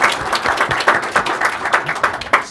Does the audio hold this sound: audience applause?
yes